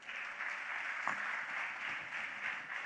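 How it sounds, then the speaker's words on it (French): Conference audience applauding at the close of a day-long session, a steady broadband clatter of many hands at moderate level, sustained without a break and with no talk over it. "Est-ce qu'on peut encore applaudir?"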